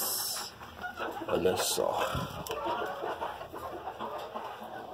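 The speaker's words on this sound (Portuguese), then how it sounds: "Coloquei eles aqui junto com esse galinho Nagasaki bem baixinho." Hens and a small Nagasaki bantam rooster clucking in a backyard flock, a steady low chorus of soft clucks close by, with someone speaking briefly over it.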